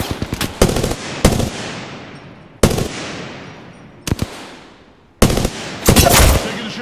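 Video-game gunfire in Apex Legends: several sharp, loud bursts of rapid automatic shots spaced irregularly, each trailing off into a ringing decay, with a dense final volley near the end.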